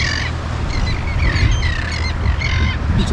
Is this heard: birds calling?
yes